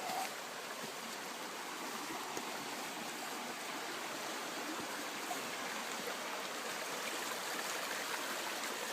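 A mid-sized river in a state forest flows steadily in winter, a constant broadband rush of water that stays even and close throughout, with no voices.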